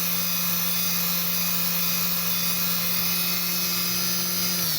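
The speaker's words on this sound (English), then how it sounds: "that sandpaper on this block sander is a little coarse" Coarse sandpaper on a block sander gives a steady, continuous loud whirring buzz with a strong low hum and bright hiss, running unbroken and close up throughout.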